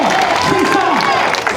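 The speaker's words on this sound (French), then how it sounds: "Allez, public, on applaudit." Spectators clapping and cheering at an urban trail race in Saint-Pierre, Réunion, a steady dense wash of applause with a loudspeaker voice running over it.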